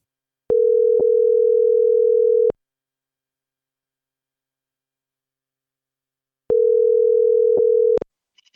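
A steady electronic telephone dial tone sounds for about two seconds, stops, then returns for another stretch, loud and pure with silence between.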